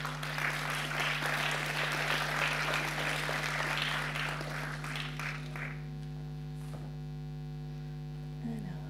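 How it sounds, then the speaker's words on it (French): Audience applause at an awards presentation of nominees, loud dense clapping for about six seconds that stops abruptly, leaving a quiet room with a steady electrical hum beneath. "Et on peut les applaudir."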